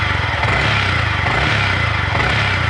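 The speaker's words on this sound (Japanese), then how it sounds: "エンジン音はね、まあ普通の単気筒のね" Yamaha YZF-R15 single-cylinder motorcycle engine running steadily with a low, throbbing drone and slight revving, close and loud, with no voices over it.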